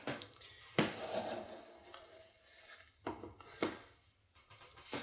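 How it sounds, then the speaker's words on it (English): A spoon stirs peanut butter into rolled oats in a bowl, giving soft, sticky scraping and squelching strokes with a few sharper scrapes against the bowl, close and quiet. "I'm just kind of blending the peanut butter in"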